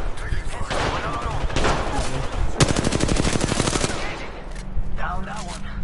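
Sustained automatic gunfire in a video game battle royale, loud and rapid bursts with steady rhythmic firing in the middle, with game voice lines heard alongside the shooting.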